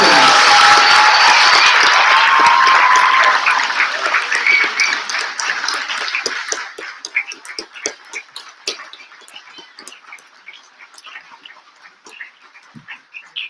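Loud, dense audience applause greets graduates at a school graduation ceremony, then thins over several seconds into scattered, fading individual claps.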